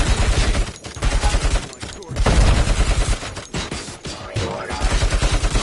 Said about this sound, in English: those UEDs shoot so beautifully